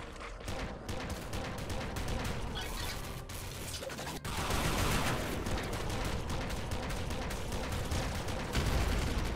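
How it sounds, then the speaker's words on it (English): A blood launcher weapon in the video game Nuclear Throne (Ultra Mod) fires in rapid, dense bursts of blasts and crashes that keep up without a break, growing louder partway through, with no speech. "Do I go with a blood launcher? I'm going to give it a go."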